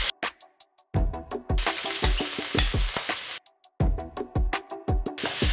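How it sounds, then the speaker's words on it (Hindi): Sun-dried shrimp fry in hot oil with panch phoron, sizzling loudly up close under rapid stirring scrapes and clacks, in choppy bursts separated by sudden silences. "जैसे ही तेल गर्म होता है श्रिम्प्स को एक्चुअली भुनेंगे"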